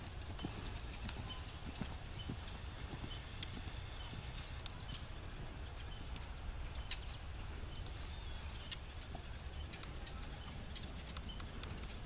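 Horse cantering in a riding arena during a counter-canter serpentine: a steady, rhythmic clip-clop of hooves on soft footing, moderately close and continuous, with light ambient noise and occasional bird calls.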